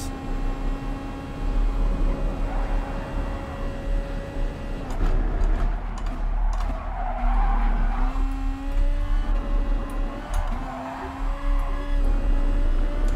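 Volkswagen Beetle in GT Sport racing hard on the Dragon Trail Seaside circuit, engine droning steadily with repeated tyre squeals and skids as it is thrown through corners, loud and continuous.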